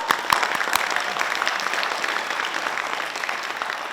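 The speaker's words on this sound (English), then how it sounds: "So give you guys a round of applause" An audience at a spoken word event applauds in a full, steady round, with a few sharp, close claps standing out near the start and the clapping carrying on evenly after that.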